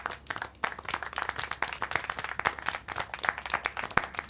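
Scattered hands clap in an uneven, brisk rhythm, close and fairly loud, with no voices over it, in the video game Syberia: The World Before.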